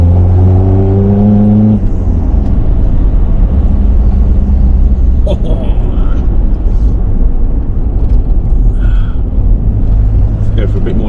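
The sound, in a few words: Nissan Patrol PD150 engine accelerating in third gear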